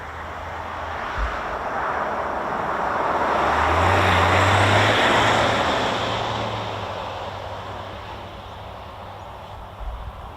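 The engines of a C-17 military transport aircraft roar as a broad jet rush that swells to a peak midway, then slowly fades as the plane passes. A low engine drone runs underneath.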